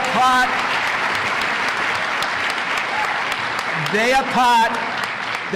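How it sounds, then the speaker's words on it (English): Applause from the audience at a high school awards night, steady loud clapping throughout, with a voice briefly speaking over it near the start and again near the end. "give them a rousing applause of thanks for what they have done to make this night possible"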